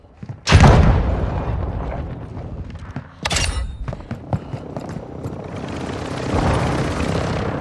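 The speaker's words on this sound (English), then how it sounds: "Hostile chopper gunner in the AO." An enemy chopper gunner helicopter in Call of Duty: Modern Warfare 2 multiplayer thunders in with loud booming bursts, then a sustained rotor and gunfire rumble with sharp crackling hits.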